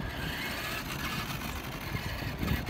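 A Traxxas Slash 2WD RC car's electric motor runs with a continuous mid-level whir and rumble, steady throughout with no voices.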